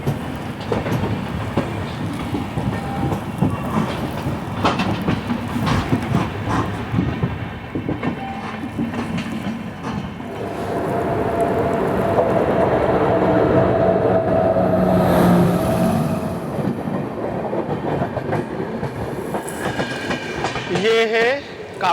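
The Garib Rath Express runs between Kolkata and Guwahati with a steady roar and repeated clickety-clack of wheels over rail joints, growing louder midway, with faint voices now and then.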